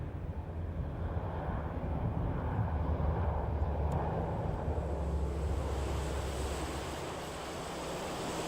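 Lockheed C-130 Hercules transport aircraft, a faint distant low engine drone with broad rumbling noise, fairly steady and fading slightly toward the end.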